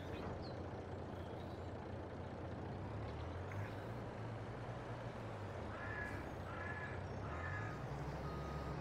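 A truck in Farming Simulator 22 backs up to drop a trailer, its low steady engine drone running throughout, with short repeated reversing beeps near the end and a hiss of air brakes.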